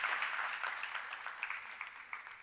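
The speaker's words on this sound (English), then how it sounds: "a round of applause" Audience applause at a Caribbean Maritime University industry conference session, a soft, steady wash of clapping from a distant crowd, fairly faint throughout.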